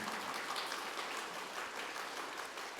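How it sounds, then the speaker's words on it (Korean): A church congregation at Sunday worship applauds to welcome a new minister, a steady, even patter of many hands clapping, heard at a slight distance and fairly soft, with no voices over it. "나와서 인사할 때 뜨거운 박수로 환영해 주시기 바랍니다"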